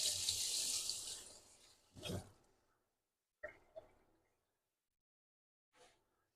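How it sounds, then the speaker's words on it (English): Water runs from a kitchen tap as hands are washed, a steady rushing stream that fades out, followed by a few scattered clinks and drips in a quiet kitchen. "I'm going to wash my hand here real quick"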